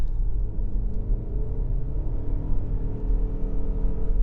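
A 2025 Mazda CX-50 Hybrid pulls uphill at wide open throttle, giving a steady, loud low engine and road rumble that holds even from start to end with no speech.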